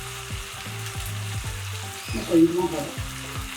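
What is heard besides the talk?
onion and tomato sautéing in a pan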